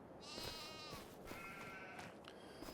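Sheep on a hillside pasture in Farming Simulator 25 bleat in a few wavering calls, moderately close, over a soft outdoor ambient bed, with no talking.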